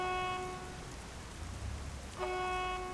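Heavy rain in Saints Row the Third, a steady broadband hiss of downpour throughout, with a brief low rumble partway through and tonal game sounds at the start and end.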